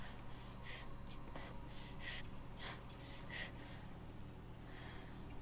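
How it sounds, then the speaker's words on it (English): Aloy, the video game character, breathes heavily while climbing, with a series of short, audible gasping breaths at an irregular rhythm over a low steady background hum. "She's breathing so hard."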